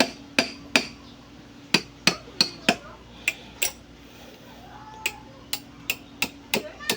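An old oil seal is pried and broken out with a screwdriver, giving a series of sharp metallic taps and knocks at irregular intervals over a low steady hum, fairly close and distinct.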